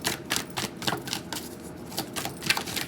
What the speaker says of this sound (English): that was just me cutting the deck,